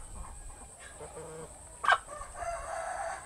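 Free-range Assel Shamo chickens, eight months old, clucking faintly at a distance, with a sharper squawk partway through, over quiet outdoor background noise.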